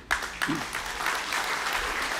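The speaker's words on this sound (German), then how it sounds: "Applaus" Audience applause after a lecture by Norbert Bolz fills the room, a dense steady patter of many hands clapping at moderate volume for a couple of seconds.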